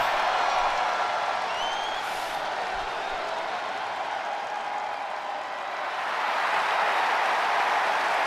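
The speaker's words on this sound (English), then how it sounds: "The crowd going absolutely ecstatic for the U.S. Champion right here" Wrestling crowd at a Grand Tour Wrestling show cheering and applauding the U.S. Champion, a loud, continuous roar of claps and shouts that dips slightly midway before swelling again.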